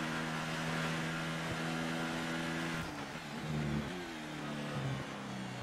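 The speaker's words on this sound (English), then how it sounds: "the engine sound is far more silent than the cheering sound of the crowd" An F1 car engine from the F1 2018 video game, a McLaren racing at the Singapore Grand Prix, holds a high steady whine, then drops and climbs through gear changes, heard alone at fairly low level.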